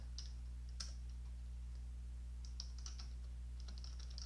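Fingers tap on a computer keyboard in short irregular bursts of quiet clicks, close and faint, with pauses between clusters of keystrokes and no speech.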